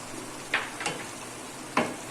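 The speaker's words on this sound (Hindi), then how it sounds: "बस अब मैंने इसको इसमें डाल के अच्छे से भूनते रहना है ताकि मेरा मसाला लगे नहीं नीचे" Chicken and masala with roasted cumin sizzle and fry in a karahi, a steady low hiss broken by three brief stirring scrapes, alone with no talk.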